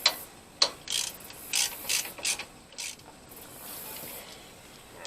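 A ratchet wrench clicks in a few short bursts while tightening the 12 mm front caliper bolts on a 2003 Chevy Tracker 2WD. The pawl rattles are close and crisp, separated by brief pauses, with no talk.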